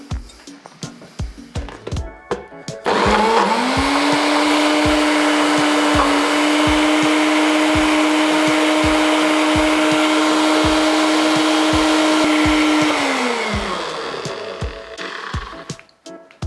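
A blender whirs through chickpeas for homemade hummus, starting abruptly after a few soft knocks and clicks, holding a loud, steady motor drone for about ten seconds, then winding down to a stop with a few more clatters.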